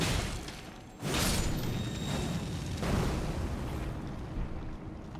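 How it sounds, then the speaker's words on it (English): Explosions in the video game Elden Ring at the Ruin-Strewn Precipice: two broad, rumbling booms burst out about two seconds apart over a steady bed of game ambience, with no voices. "be wary of explosion"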